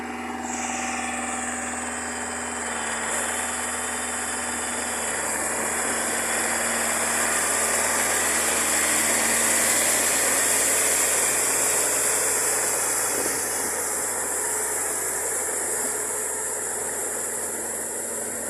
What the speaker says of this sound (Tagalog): Ayan guys, start na ulit sila sa traktora.